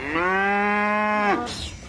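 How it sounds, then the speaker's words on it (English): A Charolais cow at an English livestock market gives one long, loud moo lasting over a second, with a brief breathy tail after it and no voices. "But these will be the last Charolais cattle ever sold here."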